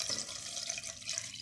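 Water runs steadily into a pan holding chicken pieces for a winter soup, a continuous close splashing pour with no speech.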